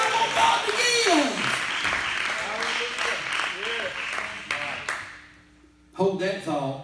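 A church congregation claps and rejoices in a loud, sustained wash of applause and voices that fades away, then bursts back briefly near the end.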